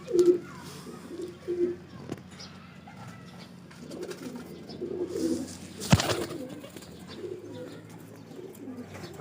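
Pigeons coo repeatedly in soft, throaty bursts nearby, with a sharp clap or flutter partway through and a few chirps around them.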